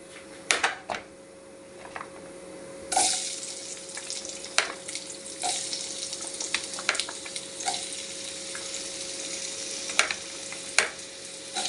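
Okra stir-fry frying in a pan, a steady close sizzle with sharp clicks and scrapes from stirring scattered throughout, and no voices.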